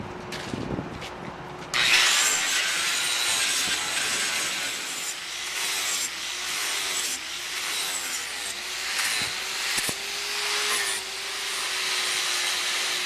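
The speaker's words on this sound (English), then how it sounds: "That's all I dare do with the big angle grinder." A large angle grinder sands a wood log with a harsh, rasping roar that starts after a brief pause, its pitch wavering as it presses and lifts repeatedly.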